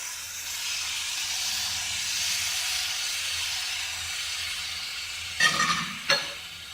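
Onions, capsicum and tomatoes sauté in a pan, making a soft, steady hiss and sizzle heard close but fairly quiet, broken near the end by two short clatters of stirring or added ingredients.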